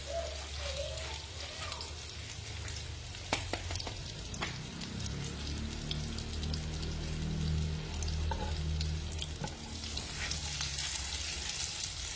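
Amul butter sizzles steadily in a pan on the stove for several seconds, a soft, continuous crackle with a few light clinks and stirring sounds, fairly quiet and with no talk.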